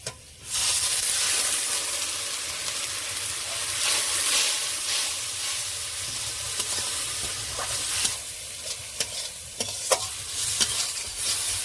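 Rupchanda fish frying in a pan with turmeric as water goes in, giving a steady loud sizzle with hiss and steam, plus scattered stirring clicks and scrapes toward the end.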